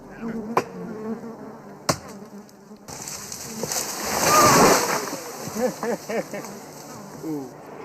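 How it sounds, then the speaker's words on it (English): A dense buzzing of many wild bees at a hive being smoked out by honey hunters in Niassa swells and fades, with a few sharp knocks and a brief splashy rush mixed in. "While Alberto smokes out the hive"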